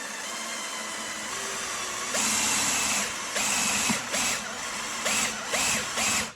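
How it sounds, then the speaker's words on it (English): A power drill bores slowly into a metal base plate under downward pressure, with a quiet opening before the motor starts and then several loud whirring bursts that briefly stop and restart, close up. "I'll be having pressure pushing down on this drill, and we're going to try and drill as slow as we can"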